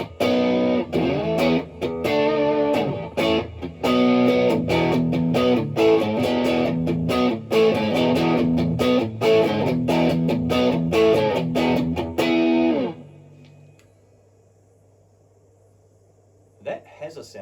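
Electric guitar played through a JOY-O pedal in compressed mode, a busy driven riff of choppy chords and notes for about twelve seconds, then cut off to a low hum with faint noise afterward.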